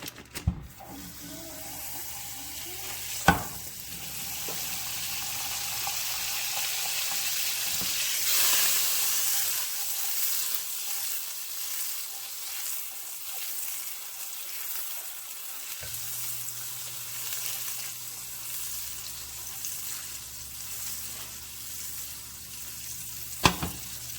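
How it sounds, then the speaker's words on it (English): A stick of butter melts in a warm pan, giving a steady soft hiss and sizzle that fills the stretch. Occasional knocks and clicks sound nearby, and nobody speaks. "So, I got my pan getting warm. Start off with a stick of butter."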